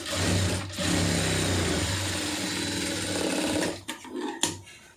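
A sewing machine runs in a steady, busy whir while stitching the sleeves of a lined blouse, close and continuous, then stops with a few short clunks and handling noises at the end.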